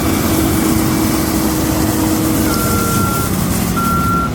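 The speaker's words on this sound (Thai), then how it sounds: "เสียงอะลามเตือนตอนถอยนะครับ" A Case sugarcane harvester idles with a loud, steady diesel drone while its reversing alarm sounds a couple of high, clear beeps on top, heard close without any talk.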